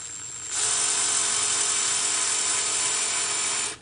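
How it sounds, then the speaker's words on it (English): A power drill whirs steadily for about three seconds at close range, drilling into a plastic toy, a high-pitched grinding whine starting and stopping abruptly. "I'm going to drill a hole here."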